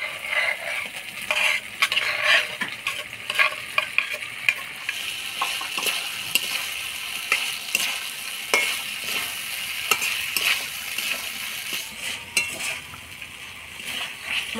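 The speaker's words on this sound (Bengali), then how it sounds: "মশলার সাথে ভিন্ডিটা হালকাভাবে নাড়াচাড়া করে নিব" Fried okra being stirred into a yogurt masala in a pan, with repeated scraping strokes of a spatula over a soft background sizzle, close and fairly even in rhythm.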